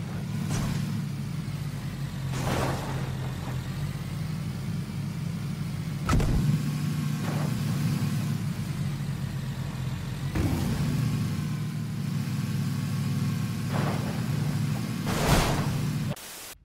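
Motorbike engine in the battle royale game PUBG, a steady low droning hum that runs continuously, with occasional sharp bumps and whooshes breaking through as the bike is driven.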